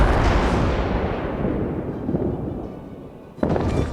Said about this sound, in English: Wait till all these other guns are reloaded, then I'll shoot at this dude.